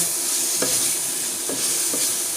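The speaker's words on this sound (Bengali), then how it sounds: "এখন তো ডিমগুলো মশলার মধ্যে দিয়ে দেব। দিয়ে তার সাথে নাড়াচাড়া করে মিশিয়ে দেব।" Fried eggs being stirred into a spice masala in a pan, with a steady bright sizzle throughout and a few soft scraping stirs of the spoon near the start and middle, no voices.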